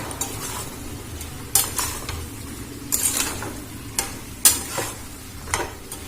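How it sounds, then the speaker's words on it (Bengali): Ginger paste stirring and frying in a pan for a vegetarian Bengali elephant foot yam curry, with a steady sizzle under repeated sharp scrapes and clinks of a spatula against the pan, close and fairly loud. "দিয়ে আবারও ভালো করে নাড়াচাড়া করে ভেজে নেব"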